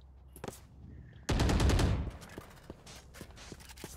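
Rapid gunfire from a weapon in Valorant bursts out as a loud, dense volley for under a second, preceded and followed by scattered single shots and quieter clicks and footsteps in the game.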